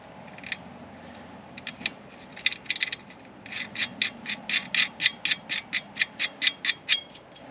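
A ratchet wrench tightens the hardware on a spacer, giving a few scattered clicks at first, then a steady, even run of loud, close ratcheting clicks with no talking.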